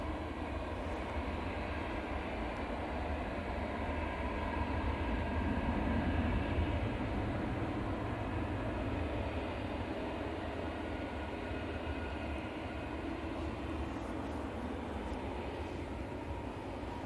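An EasyJet airliner's jet engines roar as a steady, broadband rumble across an airport, sustained and fairly distant with no talk.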